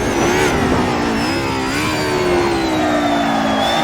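A 1990s racecar's 9.5k RPM V8 screams at high revs, bouncing off the limiter in a loud, sustained, close-up whine with a slight drifting pitch.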